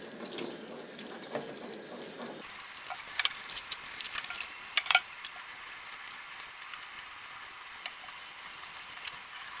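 Tap water runs steadily into a sink as tie-dyed fabric is rinsed out, a constant rushing hiss with louder splashes and patters in the middle, close by.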